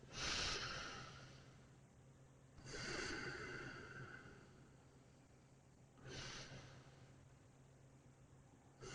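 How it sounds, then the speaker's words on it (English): Slow, deep breaths during a yoga session in a crescent lunge pose, three audible inhale-exhale cycles spaced a few seconds apart, soft and close with no talking. "And take a few deep breaths."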